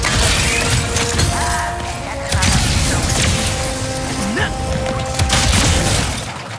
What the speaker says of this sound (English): pull the trigger fully and unleash both barrels with a devastating close-range attack